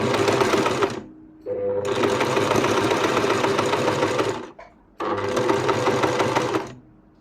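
Sewing machine stitching fabric for a scrunchie, three bursts of fast, loud mechanical whirring and needle clatter separated by short pauses, close up with no voices.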